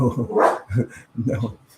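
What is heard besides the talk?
dog barking in the background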